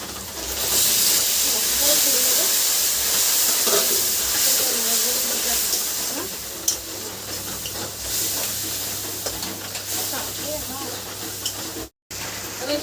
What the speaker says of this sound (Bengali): জিরে মরিচ আর শুকনো লঙ্কা বাটা দিয়ে একটু জলটা দিয়ে দিই একটু